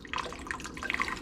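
Vinegar pours in a thin trickle into warm milk, giving a soft, close splashing with small drips and gurgles over about a second, with no talking.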